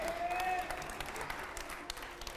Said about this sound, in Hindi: ठीक है, चलिए जोरदार तालियां हो जाए।